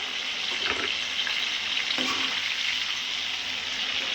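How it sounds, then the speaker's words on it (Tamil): Ground masala sizzles steadily in hot oil for an oil-rich brinjal curry, a close, continuous frying hiss with a couple of brief stirring scrapes and no talk. "இப்போ இது எண்ணெயில் வதங்கிடுச்சு நம்ம அப்படியே இப்போ மசாலாவை கொட்டிக்கலாம்"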